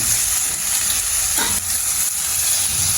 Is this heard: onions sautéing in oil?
yes